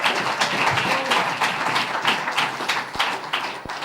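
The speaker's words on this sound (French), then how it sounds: "Applaudissez le roi des gloires" A church congregation claps together for several seconds, a dense, fairly close wash of applause with a few sharper individual claps standing out near the end.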